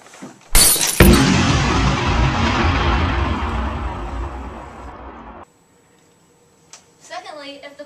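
A bus window's glass shatters in a sudden loud crash, followed by several seconds of scattering, tinkling debris that fades out, then quiet with a brief voice at the end.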